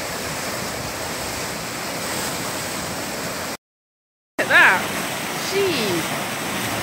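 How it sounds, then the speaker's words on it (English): Swollen river rapids on the Afon Lwyd in Wales roar steadily in the aftermath of Storm Dennis, a broad constant rush. The recording cuts out briefly, then resumes with wind buffeting the microphone and a voice speaking over the water. "Rapids."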